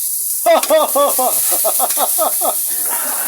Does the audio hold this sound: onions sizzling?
yes